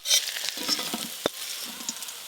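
Prawns frying in a pan in a rustic village kitchen: a light sizzle with scattered stirring scrapes and one sharp utensil clink, heard close and fairly quiet.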